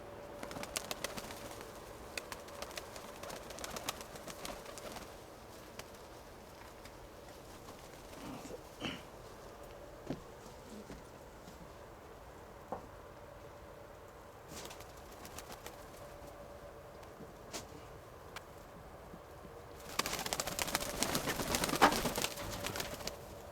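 Pigeons coo faintly at a distance amid scattered clicks and rustles, with a louder burst of wing flapping near the end.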